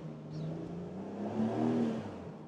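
A Porsche 911 GTS Hybrid engine heard from outside the car, a steady mid-pitched drone that swells slightly as it builds, moderately loud and continuous with no talk.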